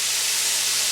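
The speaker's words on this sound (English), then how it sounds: "Just frying the meat." Cube steak frying in a pan on the stove gives a loud, steady, close sizzle, an even hiss with no pauses and no voices.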